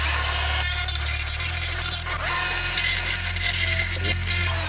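A Dremel rotary tool grinds steadily at close range on a camera cage to fit a DJI Osmo external mic, a loud continuous high whine with a slight shift in pitch partway through.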